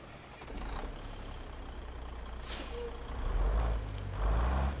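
A Kenworth W900A with a Zeemod N14 diesel starts up in a truck simulator, heard from outside: a low engine rumble builds and grows louder in surges, with a sharp hiss of air partway through and reversing-style beeps.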